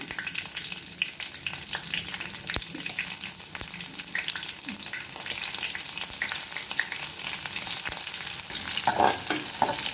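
Steady crackling sizzle of cumin, green chillies and curry leaves frying in oil, continuous and close, with a few sharp clinks and a brief splashy burst near the end.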